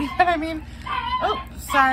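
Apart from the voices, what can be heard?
dog barking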